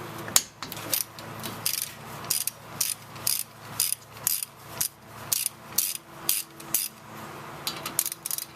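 A hand ratchet turns the 14mm nuts during a brake pad replacement, giving close, crisp clicking in about a dozen rhythmic bursts with brief pauses between strokes.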